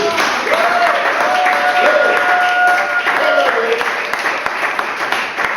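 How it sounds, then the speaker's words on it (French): Applause from a congregation during a French-language church service, sustained clapping and crowd noise under a held sung or spoken tone, fairly loud and continuous from start to end. "Applaudissons pour Jésus."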